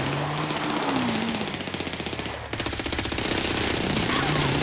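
Rapid automatic gunfire in GTA 5 Online during a Team Deathmatch, a loud continuous hammering stream of shots with a brief dip midway, close and harsh, under a voice talking.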